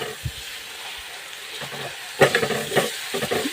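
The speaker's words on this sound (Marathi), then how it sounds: "भाजून घ्यायची व्यवस्थित जोपर्यंत त्याचा कलर बदलत नाही तोपर्यंत छान अशी भाजून घ्यायची" Gravy for a bitter gourd curry roasts in a pan with a close, continuous sizzle, punctuated by several bursts of spoon-scraping as it is stirred.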